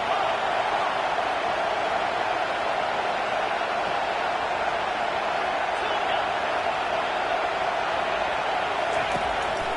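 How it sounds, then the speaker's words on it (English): Steady roar of a football stadium crowd cheering on a third-down defensive stand in a Utah vs Louisville game, loud and sustained throughout with a broadcast commentator talking over it. "Decibels rising as the crowd gets behind this defense on third down"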